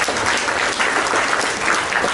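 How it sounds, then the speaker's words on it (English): An audience applauds steadily at a business competition announcement, a dense wash of clapping that holds at an even level throughout with no talk over it. "Another round of applause for Outsource Accelerator."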